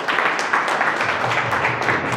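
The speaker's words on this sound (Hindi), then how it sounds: "इनके लिए जोरदार तालियां" Applause from an assembled audience welcoming a guest speaker to the stage at a team meeting, a dense, steady clatter of many hands sustained for about two seconds without a break.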